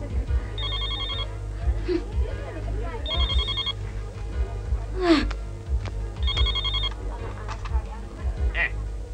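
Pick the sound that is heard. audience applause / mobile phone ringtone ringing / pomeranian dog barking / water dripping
mobile phone ringtone ringing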